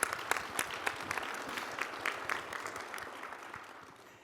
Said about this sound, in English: another round of applause for the keynote speaker